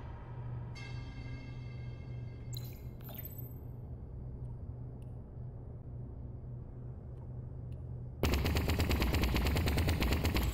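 Gunfire at a shooting range in the VR game Vertigo Remastered, a few brief crisp shots early on, then a loud sustained burst of rapid automatic fire near the end.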